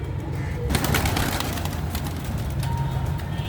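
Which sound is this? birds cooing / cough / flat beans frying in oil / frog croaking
birds cooing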